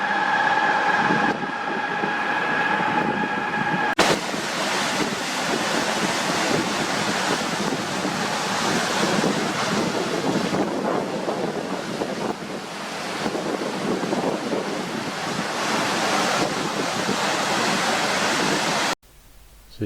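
Water thunders through a dam in a steady, loud broadband roar resembling a turbine, with buffeting wind noise on the microphone throughout before cutting off abruptly at the end.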